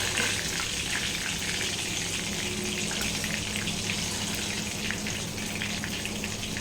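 Chicken lollipops deep frying in hot oil give a steady, dense crackling hiss that runs unbroken and fairly loud throughout, with no talking.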